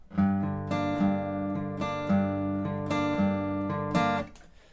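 Guitar playing a riff, four repeated phrases of plucked notes with sustained opening notes, close and clear with no talking.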